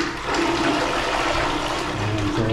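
A water closet toilet flushing in a newly built house, a loud rushing gush that fills the room and runs on for a couple of seconds, with a low gurgling refill toward the end.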